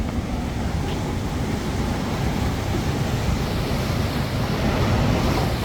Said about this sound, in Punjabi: ਪਾਣੀ ਦੀ ਛਾਲ ਆਉਂਦੀ ਆ ਇਧਰੋਂ